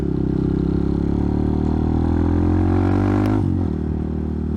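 Hawk 250 dual sport motorcycle engine running close and loud, a steady droning hum that rises in pitch as it accelerates, then shifts gear near the end.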